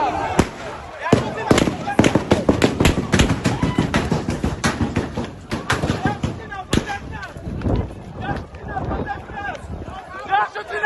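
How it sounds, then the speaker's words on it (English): Rapid bursts of gunfire aimed at protesters during the EndSARS unrest in Lagos crack out in dense, irregular volleys, loud and close, with shouting voices mixed throughout. "They are shooting at protesters."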